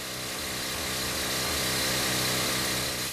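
A rock drill bores blast holes into the rock face of an underground jade mine 400 m deep, giving a loud, continuous, unbroken roar of machinery up close.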